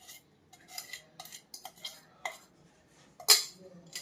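A spoon clinks and scrapes against a metal pot while laddu ingredients, including dry ginger powder and edible gum, are stirred together, giving a few scattered light taps and one sharper clank near the end.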